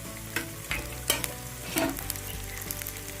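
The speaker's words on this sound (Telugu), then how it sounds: "బాగా వేగనివ్వాలి." Spices for an Andhra-style sambar tempering sizzle and crackle in hot oil, with a few sharp pops and stirring scrapes over a steady frying hiss, close and alone.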